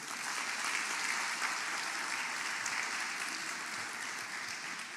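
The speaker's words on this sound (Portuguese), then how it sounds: "Dê um forte aplauso a Ele." A church congregation applauds during a sermon, a steady wash of many hands clapping at moderate volume that holds for the whole stretch without a break.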